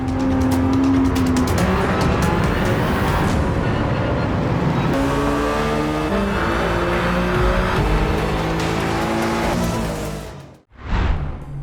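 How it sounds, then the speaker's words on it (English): Race car engines roar in Gran Turismo 7, rising and falling through gear changes with tire squeal, ending in a sharp drop-off and a brief final whoosh. "Rev up your engines and prepare for the ultimate racing experience with Gran Turismo 7"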